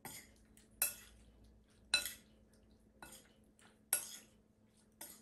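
Chicken being mixed by hand or spoon with lemon marinade and spices in a bowl, giving quiet clinks and scrapes against the dish roughly once a second over a faint low hum, with no talk.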